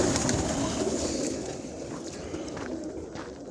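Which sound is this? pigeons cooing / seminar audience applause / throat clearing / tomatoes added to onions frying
pigeons cooing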